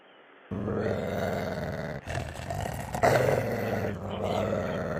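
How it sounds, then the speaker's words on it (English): Dogs growl and roar in a low, rough, continuous rumble, caught by a home doorbell camera after a brief quiet start, with a few sharper bursts along the way. "We'll let the dogs out."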